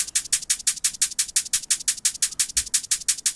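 Fast, even hi-hat ticks repeating in a tight rhythm over a faint low thump, quiet and isolated, layered over a liquid drum and bass drum loop.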